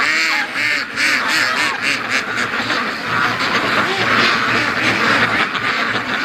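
Free-range Muscovy ducks give dense, overlapping quacks and honking calls, loud and close, with no pauses across the stretch.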